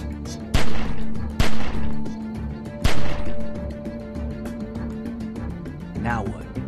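Several sharp gunshots ring out in The Walking Dead video game, loud close cracks spaced irregularly with short echoing tails over a steady low game hum.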